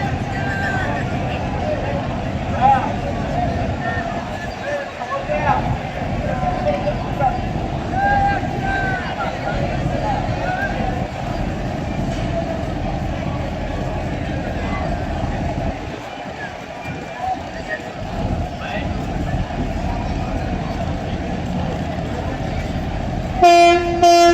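Four passenger launches pull away together from Munshiganj ghat, a steady low engine rumble with a loud horn blast at the end, under crowd noise and talking.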